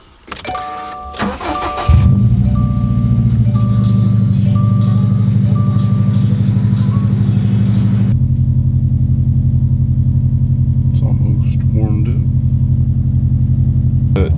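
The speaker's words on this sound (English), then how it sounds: "It's always important to let your Subaru warm up to temperature" A Subaru engine cranks briefly and catches, then settles into a loud, steady idle with a high fast-idle tone that drops to a lower, even rumble as it warms up, with faint clicks late on.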